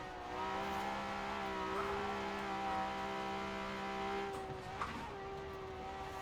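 Ferrari 250 Le Mans race car in Forza Horizon 4 on backroads, its engine holding a steady high drone with layered harmonics, then a shift and brief tire scrub near the end, close and continuous.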